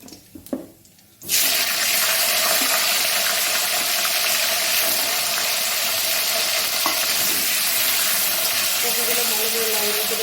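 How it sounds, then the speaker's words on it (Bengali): Cauliflower pieces dropped into hot oil after frying koi fish, a quiet start then a sudden loud, continuous hiss and sizzle that holds steady to the end. "এই তেলের মধ্যে আমি এবার কপিগুলো ভেজে নেব।"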